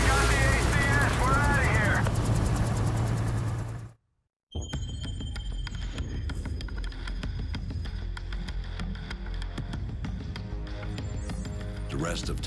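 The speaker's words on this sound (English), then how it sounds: "There's the chopper, let's go." Helicopter in the video game Call of Duty Modern Warfare 2 Remastered, a steady rotor drone continuing under gunfire and game noise after a brief cut to silence, with voices talking over the first few seconds.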